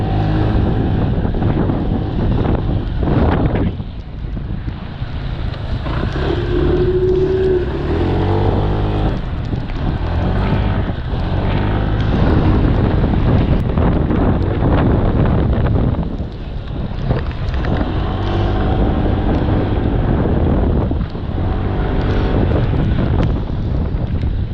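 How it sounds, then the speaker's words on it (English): A 2019 Honda PCX125 scooter engine hums steadily throughout a night ride through London, with loud continuous wind buffeting over the low drone. "You can just listen to the engine."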